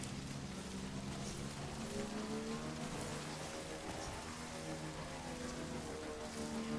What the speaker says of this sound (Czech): Začíná nám déšť, pravděpodobně tady budeme mít BT.